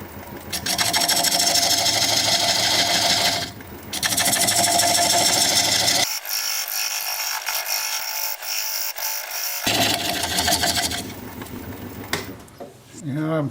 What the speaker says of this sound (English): Now I'm gonna use this diamond point tool to square up the sides of the tenon.